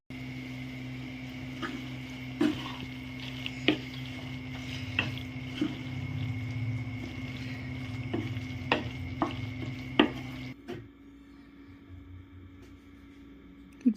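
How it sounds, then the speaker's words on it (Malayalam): Squid roast being stirred in a pan, with steady sizzling under repeated scraping clicks of a spoon against the pan, ending in a quieter simmer. "കൂന്തലിട്ട് മിക്സ് ചെയ്തതിന് ശേഷം നന്നായിട്ട് മിക്സ് ചെയ്യുക"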